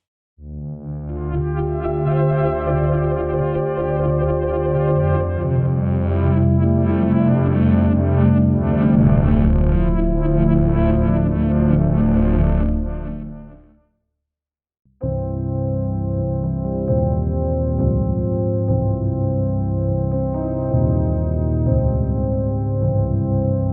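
A thick, layered synthesizer tone with a distorted, chorus-like sheen plays sustained notes, breaks off briefly, then returns with a darker, steadier timbre.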